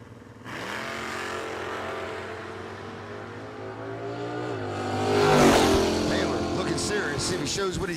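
A 2002 Camaro launches at a drag race, the engine roaring up from a rumble into a loud, rising rev before receding, with an announcer talking over it.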